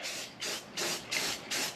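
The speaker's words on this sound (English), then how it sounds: "I gotta give this a wipe down and then a spray." Flat black paint sprayed from a can onto the upper tailgate of a Range Rover Classic: five close, steady hissing bursts, each about a quarter second long, separated by short pauses.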